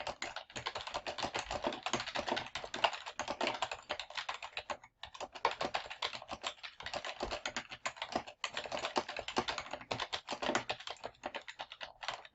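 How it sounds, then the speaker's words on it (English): Steady, rapid typing on a computer keyboard as a paragraph is entered, a dense run of close key clicks with only brief pauses, no voices. "now I'm ready to type my first paragraph"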